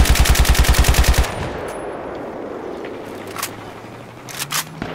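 Automatic gunfire in the video game Battlefield 3: a rapid, loud burst of about a dozen evenly spaced shots lasting just over a second, followed by quieter battlefield ambience with a few faint distant pops near the end.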